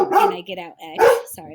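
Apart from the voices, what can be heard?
dog barking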